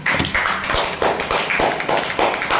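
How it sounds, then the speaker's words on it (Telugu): A classroom of young children applauds a classmate named Rahul with brisk, loud, rhythmic group clapping that keeps a steady beat for the whole short stretch. "మళ్ళీ క్లాప్స్ రాహుల్కి."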